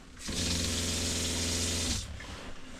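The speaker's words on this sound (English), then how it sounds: "our pump sounds something like this" A caravan water pump runs in a steady, loud electric whine and hum for about two seconds, starting and stopping abruptly, with no voices over it.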